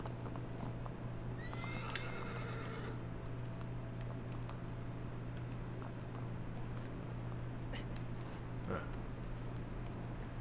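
A horse neighs once in the Shadow of the Colossus video game, then hooves patter faintly over a steady low drone, with a few small clicks.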